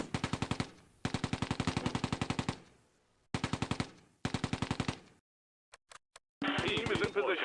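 Rapid machine-gun bursts in the wartime strategy video game Close Combat A Bridge Too Far, several loud staccato volleys separated by short pauses, then a few sparse single shots and a noisy rumble.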